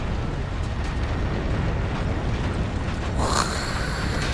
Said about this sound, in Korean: that tower detonation